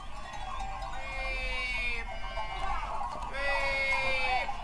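Sheep bleat repeatedly while being herded down to the milking area, a few wavering cries close by over a steady outdoor rumble, with no talk.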